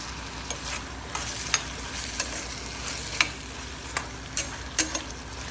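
Masala sautéing in a pan for mullikai puli kulambu, a steady close sizzle broken by regular light clicks and taps of a stirring spoon, no talking.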